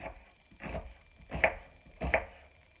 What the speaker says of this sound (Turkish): Kuru soğanımızı da şu şekilde doğruyoruz